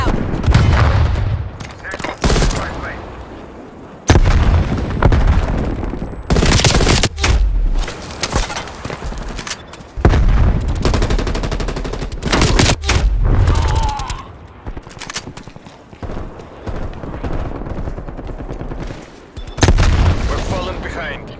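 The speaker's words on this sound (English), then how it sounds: "Throwing stun. Stun grenade out." Stun grenade thrown amid heavy gunfire in a Call of Duty Black Ops Cold War multiplayer match, with loud repeated shots, booms and bursts of automatic fire throughout, and in-game voice callouts mixed in.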